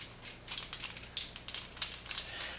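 Quiet metallic ratcheting clicks from a hand tool loosening a bolt on the front slider of an Energica Experia motorcycle, a quick uneven series of small taps and turns.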